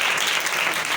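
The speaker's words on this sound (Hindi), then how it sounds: "जरा यीशु मसीह के लिए जोरदार तालियां बजाएं, जोरदार तालियां।" A church audience at a New Year night service applauds loudly, a dense, even wash of clapping with no break.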